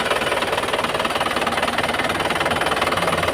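The diesel engine of a 2015 Isuzu Panther LS idles close by, its loud knocking clatter pulsing in a steady, even rhythm throughout, with no talking.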